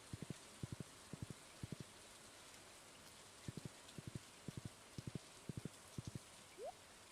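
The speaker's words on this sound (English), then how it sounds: "it is now raining" Steady soft rain hiss from the Stardew Valley farming game fills the background, with faint, quick clusters of game taps recurring over it and no voices.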